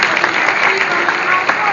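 An audience applauds Bernard at a Dieudonné show, the clapping dense, steady and close for a short stretch.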